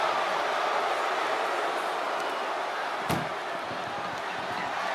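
Ambulance door slamming shut during a WWE 2K25 wrestling video game match, one sharp bang standing out from a steady roar of arena crowd noise.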